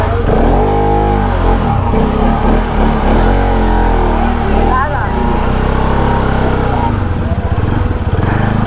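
Motorbike engines in a jam near Lakshman Jhula in Rishikesh putter and rev close by in a dense mix, with horns and crowd noise and people talking throughout.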